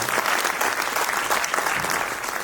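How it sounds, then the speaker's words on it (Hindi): A crowd applauds steadily, dense continuous clapping at an even level throughout. "आप उनका जोरदार तालियों स्वागत कर सकते हैं"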